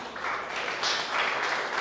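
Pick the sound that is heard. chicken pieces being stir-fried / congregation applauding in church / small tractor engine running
congregation applauding in church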